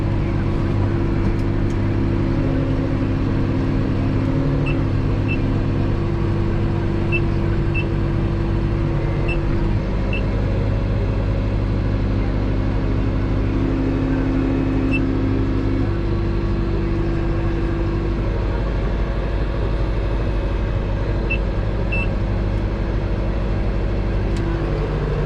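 A grape harvester's engine runs steadily while the machine manoeuvres and lifts in a vineyard, a loud, continuous low drone with a few faint high beeps over it and no talk.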